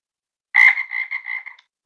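Frogs croak in a swamp in the video game Dead by Daylight, one clear, loud, close croak followed by several quicker rattling croaks, then silence.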